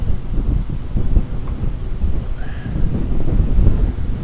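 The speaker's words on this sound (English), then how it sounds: "Boy, the wind is blowing up a storm right now." Strong wind pummels the microphone on the Mastic-Shirley Long Island Rail Road station platform, a continuous low rumbling buffet that gusts in uneven pulses, close and loud, with no voices heard.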